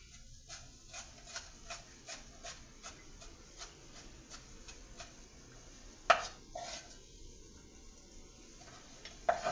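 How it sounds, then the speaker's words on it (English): Onions being chopped on a cutting board with a knife, a run of quick, evenly spaced taps close by, then a pause and a few heavier knocks, with no one talking. "gonna have to get me a bigger board because I'm tired of chopping and dropping"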